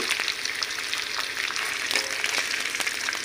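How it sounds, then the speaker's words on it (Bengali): Duck eggs frying in hot oil in a pan give a steady, dense crackle and sizzle with small spits and pops throughout, close up and with no voices. "ডিমগুলি যতটুকু ভাজা হয়েছে আমরা এখন এগুলি উঠিয়ে নেব, প্লেটে রেখে দিব।"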